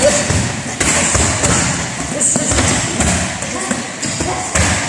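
Kickboxing punches striking pads in a club training session, a run of dull thuds in quick irregular rhythm. A coach calls out over the hits in a large reverberant room.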